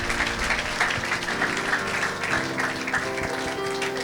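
Church congregation applauding at a worship service, a steady dense wash of clapping from many hands that holds throughout, with some music and voices faintly underneath.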